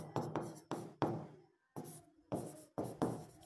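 Marker or chalk strokes on a board in a reasoning class: a run of short, scratchy bursts in an uneven rhythm, close by, with brief pauses between groups of strokes.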